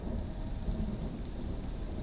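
Heavy rain hisses steadily with a deep rumble of thunder beneath it, a continuous dense stormy wash heard alone without any voices.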